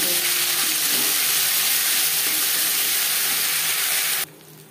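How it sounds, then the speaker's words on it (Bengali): Panch phoron, bay leaf, ginger and green chilli sizzle steadily in hot oil in a pan, a continuous close hiss that cuts off abruptly near the end. "20-25 সেকেন্ড পাঁচফোড়ন তেজপাতা ভেজে নেওয়ার পর দিয়ে দেবো 2 চা চামচ আদা ও কাঁচা লঙ্কা"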